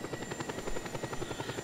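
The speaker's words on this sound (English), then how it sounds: "Let's just have us a helicopter ride through the wonderful jungles of Panau." Helicopter in the video game Just Cause 2 flying over jungle, its rotor beating in a steady rapid thump with a constant engine whine, moderately loud and uninterrupted.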